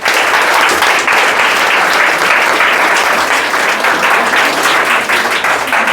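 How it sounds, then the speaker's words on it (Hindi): Students clap loudly and continuously at a grammar test prize distribution, a dense, close, even roar of many hands lasting the full six seconds with no talking. "ताली बजाओ भाई।"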